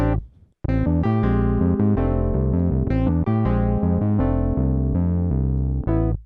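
Layered electronic synth music with sustained chords and a steady pulse, loud and continuous, starting after a brief quiet moment and cutting off at the end.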